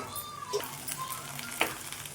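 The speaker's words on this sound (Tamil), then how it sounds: "இப்போது வெள்ளைப்பூண்டு கொஞ்சம் வதங்கட்டும்." Garlic and curry leaves sauté quietly in hot oil for a tamarind-based kuzhambu, giving a soft, steady sizzle with a couple of faint clinks of a stirring spoon.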